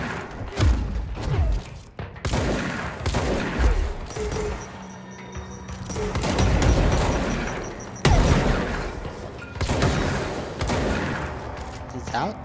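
Gunfire and heavy impacts in the shooter game Control, with rapid bursts of shots and thudding hits under scattered action, broken by brief pauses before the firing resumes.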